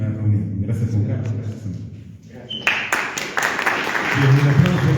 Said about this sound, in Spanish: Y un aplauso reiterado